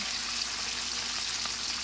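Steady, close sizzling and crackling of food frying in hot oil, continuous and unbroken with no voices.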